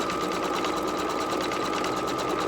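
Brother Innov'is 1600E embroidery machine stitching an appliqué tack-down, a steady fast whirring chatter of needle strokes, close and constant with no talk.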